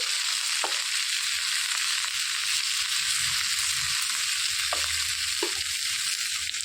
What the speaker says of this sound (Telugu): చింత చిగురు వేసేసుకొని వేయించేసుకోవాలి